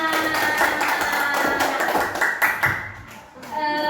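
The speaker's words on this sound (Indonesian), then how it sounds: "Tepuk tangan untuk kita semua." Children in a classroom clap together in a quick patter of hand claps, mixed with their voices and chatter.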